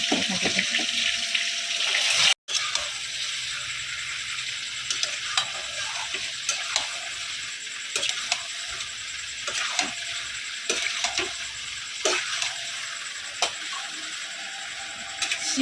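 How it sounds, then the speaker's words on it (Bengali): Chicken for chicken biryani is sautéed in a pan, giving a continuous close sizzle with periodic clicks and scrapes from stirring, briefly cut off near the start. "চিকেন বিরিয়ানি করব তাই চিকেনটাকে কষে নিচ্ছি ভালো করে"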